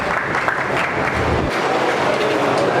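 Applause from a crowd honouring a guest at an NGO award ceremony, a dense steady patter of many hands lasting a few seconds at moderate volume.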